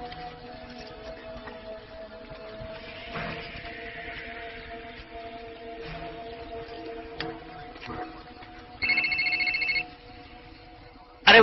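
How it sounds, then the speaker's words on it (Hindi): A telephone rings briefly in two short trilling bursts near the end, over a quiet background hum. "अरे भाई ग्रेग, कौन है फोन में देखो।"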